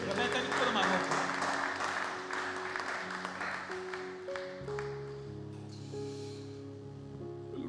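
Church congregation applauding during worship, a dense patter of clapping that fades gradually while singing and voices continue over it with sustained tones.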